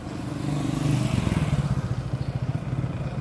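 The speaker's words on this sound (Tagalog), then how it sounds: "Nasa na yung motor." A motorcycle engine runs on a street in Umingan, Pangasinan, in the Philippines. It builds to a close, loud, rapid putter of regular pulses that continues steadily to the end.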